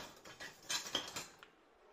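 A metal spatula and utensils clink and rattle against kitchen cookware while making a Japanese cheesecake, a few quiet light taps and scrapes close by, then stillness.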